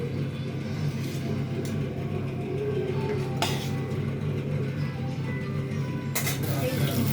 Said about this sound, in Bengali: এখন তেলের মধ্যে এটা ঢেলে দেওয়া হলো।